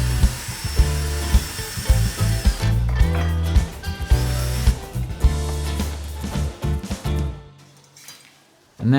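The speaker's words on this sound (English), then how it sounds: "I'm using a wire brush attachment on my drill just to get any rust or flaky paint off." A drill with a wire brush attachment scours rust and flaky paint off old metal gymnast's beam legs, a loud, harsh grinding whir running in bursts with brief pauses before cutting out near the end.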